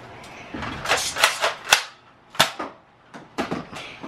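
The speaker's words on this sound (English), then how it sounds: "There goes the Nerf bullet" A toy Nerf gun fires foam bullets in a string of sharp, snappy pops, several quick shots then a few more spaced apart, close and fairly loud with no talking.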